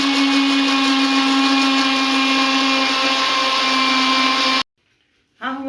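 A blender whirs loud and steady for several seconds while oil is added to homemade mayonnaise, then cuts off abruptly into near silence before briefly starting again.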